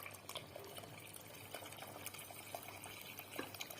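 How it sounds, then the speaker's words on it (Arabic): Boiled water poured into a pot of Moroccan harira soup, a quiet steady liquid pouring and filling sound that runs continuously and faintly throughout. "دابا غادي نزيدوا لها الماء اللي يكون طايب"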